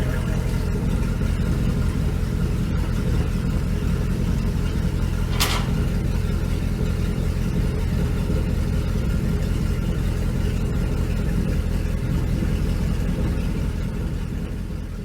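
A Mercruiser 496 boat engine running for the first time in four years, a steady loud rumbling drone that holds an even pitch throughout, with a brief sharp click partway through and no talking.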